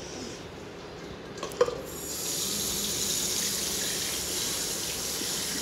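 A tap pours water into a sink during a morning wash, a steady close rushing hiss that starts after a brief clatter and runs on evenly.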